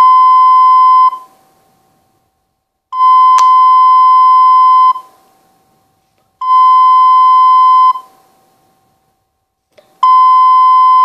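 Censor bleep tones, loud steady pure beeps about two seconds long, repeated four times with silent gaps between them and no voices.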